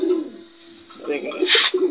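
Grizzle pigeons cooing in a loft, soft low coos rising toward the end with a brief brighter flutter or rustle, a steady faint hiss throughout.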